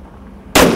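A Knuckle Jack short-barrel shotgun fires a single loud, close blast that cuts abruptly through a quiet background and rings out to the end of the clip.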